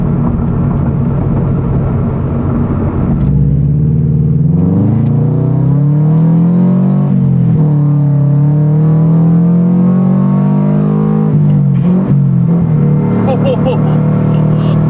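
A 2016 FR-S fitted with a Grimmspeed intake and a cut snorkel accelerates hard, its engine note climbing through the revs, dropping at gear changes and rising again. The sound is loud and close, as heard from inside the car.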